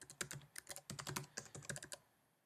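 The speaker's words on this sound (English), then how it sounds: "I'm just going to type in my URL." Someone types a web address on a computer keyboard, a quick close series of about a dozen crisp key clicks in an uneven rhythm that ends after two seconds, with no talking.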